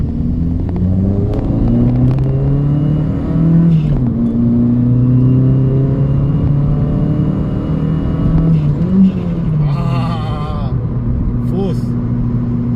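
A 2012 Chevy Spark accelerating up through the gears, engine pitch climbing and dropping at each shift, heard from inside the car with voices talking over the steady engine drone.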